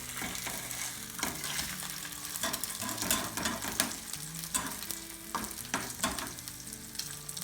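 An egg omelette sizzles steadily in a hot pan after being flipped over low heat, with a continuous frying hiss and repeated scraping stirs and taps of a spatula close by.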